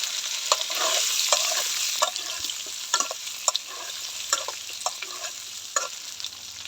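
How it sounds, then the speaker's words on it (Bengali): Boiled potatoes fry in mustard oil in a kadai, a steady close sizzle broken by repeated sharp scraping clinks of a spatula stirring at an uneven pace, with no talking. "ভালো করে লাল লাল করে আলুগুলা ভাজবো।"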